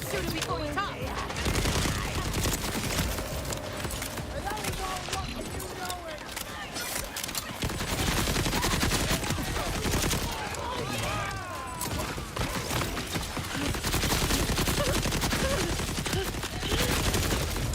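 Rapid, dense gunfire from the looter-shooter game Borderlands 4 in endgame play: loud, continuous bursts and volleys with booming impacts fill the whole stretch, barely pausing between salvos.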